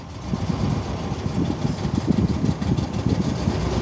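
A 1967 Unimog 404 truck engine runs steadily with a low, rough rumble, slowly revving, continuous and close, with no voices.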